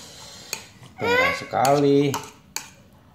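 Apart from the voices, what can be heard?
stirring Samyang instant noodles in a bowl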